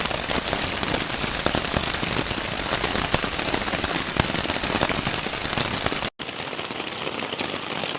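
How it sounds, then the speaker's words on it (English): Heavy rain drums on a tent fly right beside the microphone on a solar bike tour in Saaremaa, Estonia, a dense, loud, unbroken patter with a brief dropout and slightly softer tone near the end. "So it's probably just like deafening rain."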